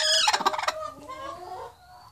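A hen clucks in a quick burst of several rhythmic, squawky notes, close and fairly loud, then trails off into quieter, softer murmurs.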